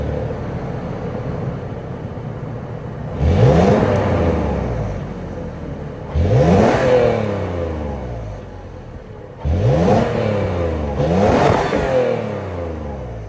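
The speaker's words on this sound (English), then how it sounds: "that was the sound of the bulletproof 4-liter V6 sold by Toyota for the 2024" The 4-liter V6 of a 2024 Toyota 4Runner SR5 Premium, heard near its exhaust, idles steadily and is revved three times, each blip rising sharply and falling back to a low idle.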